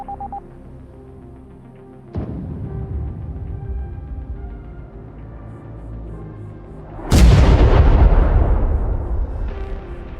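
A laser tag device fires a simulated airstrike, with a sudden boom at about two seconds, then a lower rumble, and a second, louder blast near seven seconds that leaves a heavy roaring decay, electronic and close, without speech.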